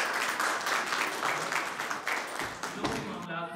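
An audience applauds as a guest is invited onto the stage at a literary gathering, a steady roar of clapping from a crowd that fades out near the end as a voice begins.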